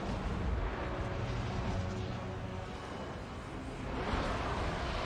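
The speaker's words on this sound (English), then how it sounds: "that flame cannon's actually doing quite a bit of damage there" Flame cannon artillery fires in a Total War: Warhammer 2 battle, heard as a continuous dense rumble of booms and bursts at low volume with no talking.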